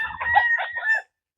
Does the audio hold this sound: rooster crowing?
yes